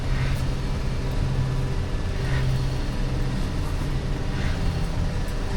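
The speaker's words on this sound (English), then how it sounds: "I'm gonna take the tire here and we're gonna spin the tire" A Toyota Tacoma wheel and tire spinning, picked up close through an electronic stethoscope, a steady low humming drone with faint periodic whooshes repeating about every second.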